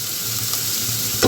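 Chopped onions hit hot refined oil in a pan and fry with a loud, continuous sizzle, closely miked, ending in a brief clatter of stirring.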